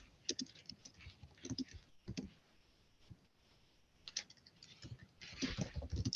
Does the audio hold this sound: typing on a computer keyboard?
yes